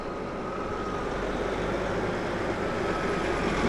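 A loaded logging truck, hauling drags from a John Deere 748L skidder, rumbles steadily at close range as it is put in gear and starts pulling away, a constant low engine drone with no talk.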